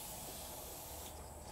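A can of WD-40 sprays lubricant along a truck's window glass track and seal, giving a steady, faint hiss that runs unbroken for a moment up close.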